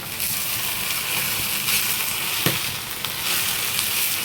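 Tripe (bhuri) frying in a pan, a steady loud sizzle with sharp spattering pops breaking through, continuous and close.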